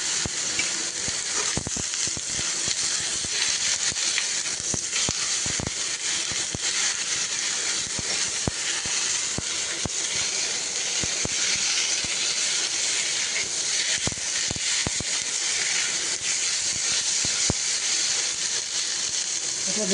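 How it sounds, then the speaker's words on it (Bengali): Potatoes and broken onion pieces fry lightly in a pan for a Bengali aloo maacher jhol fish curry, giving a steady, close, hissing sizzle that runs unbroken, with scattered small pops and scrapes throughout. "হালকা একটু ভাজছিল।"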